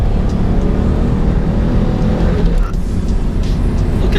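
A V6 Ford Mustang accelerates from inside the cabin, a loud steady engine roar through the shift from second into third, with a faint tire chirp near the gear change.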